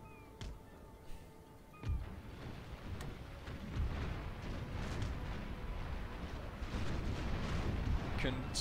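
Naval cannon fire in a Napoleon: Total War sea battle, with deep booming blasts and rumbling that build into a steady, dense roar, plus a few sharper cracks scattered throughout.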